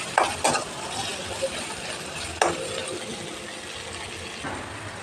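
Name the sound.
onions and grated ginger being stir-fried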